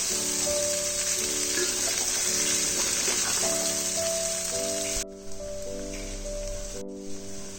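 Fried vegetables with Malabar spinach leaves and stalks sizzle loudly and steadily in a pan, with a constant hiss and a tonal hum underneath, then the sizzle drops suddenly near the end.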